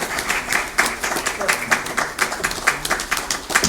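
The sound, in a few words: audience applause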